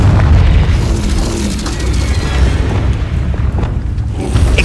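The Confringo explosive spell in Hogwarts Legacy bursts with a loud, deep boom and rumbling blast, followed by lingering crackling debris and a second heavy thump near the end.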